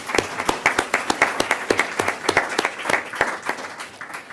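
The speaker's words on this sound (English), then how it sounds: "Let's give a round of applause for that." Applause breaks out at a school board meeting: distinct, sharp hand claps come in an uneven rhythm, with a fairly small crowd clapping close by.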